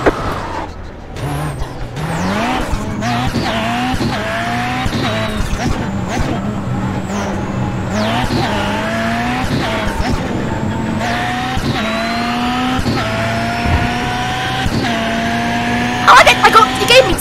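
Race cars in the iRacing simulator roar past with rising and falling engine pitch and gear shifts, layered whines from several cars, while someone talks over the racing.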